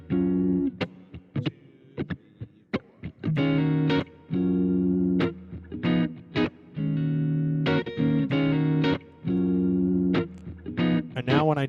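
An electric guitar loop recorded on a looper pedal plays back as a string of clear, rhythmic chords and plucked notes, fairly loud and steady, with brief gaps between phrases.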